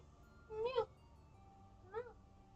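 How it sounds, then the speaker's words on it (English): A cat lets out two whiny meows about a second apart, the first louder and drawn out, the second shorter, heard close against a quiet indoor room. "You're such a whiny cat."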